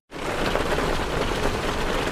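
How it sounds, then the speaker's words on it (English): Hail striking Hardie fiber cement siding, a dense, steady clatter of countless small impacts that starts abruptly and holds at an even, loud level throughout. "What you're hearing is Hardie Fiber Cement Siding living up to its reputation as the siding that handles hail impact with ease."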